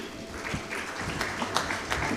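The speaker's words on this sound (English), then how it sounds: "Big round of applause." Audience applause at a business summit in India, steady clapping from a crowd filling the short stretch at moderate level, with a faint voice underneath.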